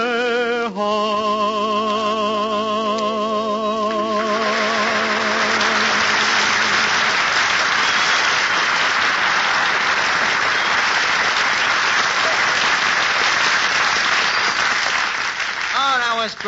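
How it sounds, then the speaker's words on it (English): A radio-show studio audience breaks into loud, sustained applause for a singer, following the last sung notes with orchestra, then continuing as a dense crowd roar of clapping. "Eddie, did you hear that clapping?"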